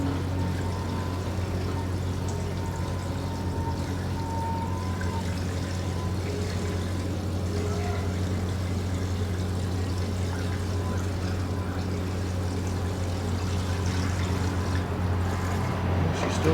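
Coolant pouring into a car radiator in a garage, a steady continuous liquid pour over a constant low engine hum for the whole stretch, with no talk.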